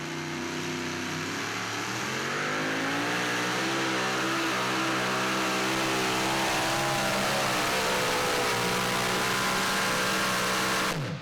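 An old blue Ford Ranger super modified two-wheel-drive pulling truck named Thor roars continuously at a 2015 truck pull in Franklin, Kentucky, its engine climbing steadily in pitch and holding loud and close before cutting off at the end.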